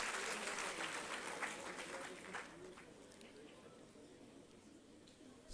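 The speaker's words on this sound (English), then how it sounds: "A big round of applause for all the students who are present this morning." Students at an Andhra University G20 University Connect morning event give a round of applause, a quiet, distant patter of many hands that slowly tapers off.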